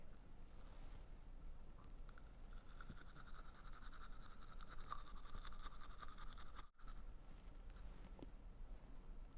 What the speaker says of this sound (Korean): 최대한 칫솔을 세워서 앞뒤로 쓸듯이 닦아주세요